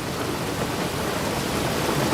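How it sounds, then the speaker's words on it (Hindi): Rain falls outside during a thunderstorm, a dense, even hiss of rainfall with a low rumbling undertone, constant and unbroken throughout. "लेकिन बाहर बारिश हो रही है।"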